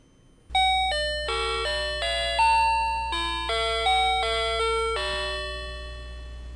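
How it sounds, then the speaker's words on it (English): A Family Mart convenience store entry door chime plays a bright short melodic tune of about a dozen ringing notes over a low steady hum, then fades out. "that's the sound when you enter a Family Mart"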